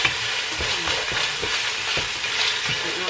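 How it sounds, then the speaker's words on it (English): Onion and sriracha sautéing in a pan, a loud continuous sizzle close up with soft periodic stirring scrapes every half second or so, no talk over it. "so in here I'm going to add the onion and sriracha."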